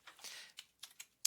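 Quick bursts of keystrokes on a computer keyboard while writing out and saving a file in the nano text editor, a short run of taps followed by a few separate presses and a sharp final keystroke, fairly close and quiet.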